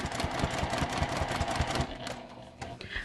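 A sewing machine without a free arm stitches in a rapid, even mechanical rhythm, then slows and stops with a few light clicks.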